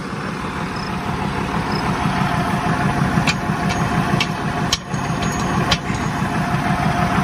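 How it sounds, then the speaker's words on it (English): International Harvester 1586 tractor engine running steadily at a low, even idle-like drone, close and continuous, with a few faint clicks and knocks over it while moving round bales. "Put the tractor to work."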